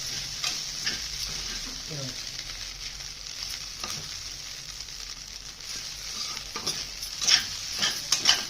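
Poha with egg stirred and frying in a pan, a steady sizzle with scraping strokes of a spoon against the metal, close and fairly quiet, a few brief clinks near the end.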